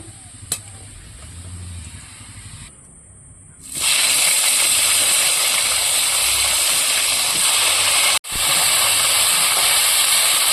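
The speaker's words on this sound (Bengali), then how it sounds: "ওই মাছ ভাজা তেলেই আমি আলু আর ফুলকপিগুলো ভেজে নেব" Potatoes and cauliflower drop into hot oil left from frying fish, bursting into a loud, steady sizzle that fills the kitchen after a quieter moment, briefly cutting out once before resuming.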